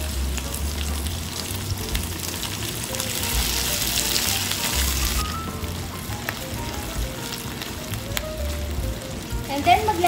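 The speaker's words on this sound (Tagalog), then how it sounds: "Yan, gigisa lang natin hanggang sa maging mabango" Beef sautéing with shrimp paste in a pan gives steady loud sizzling and frying crackle, with occasional stirring scrapes and speech in the background.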